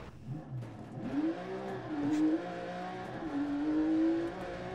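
Rally car engine in Dirt Rally 2.0 revving and rising through gears over a forest stage, a steady loud drone with climbing pitch sweeps, close and continuous with no talk.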